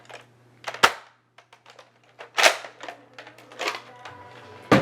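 Foam-dart nerf blaster fired several times at close range, sharp snappy pops with mechanical clicks and priming clacks between shots, irregularly spaced, with no talking.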